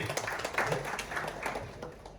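Applause from an audience filling a hall, a dense, steady wash of many hands clapping that swells and fades slightly over a couple of seconds, with a few voices mixed faintly underneath.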